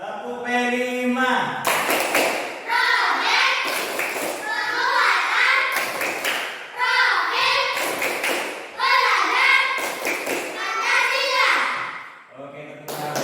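A school class performs a rhythmic clapping routine, with bursts of children's chanting voices punctuated by repeated groups of sharp, close claps in a regular pattern.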